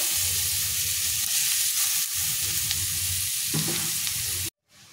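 Onion frying in oil in a pan for prawn malai curry, a loud continuous sizzle with faint stirring scrapes, ending abruptly.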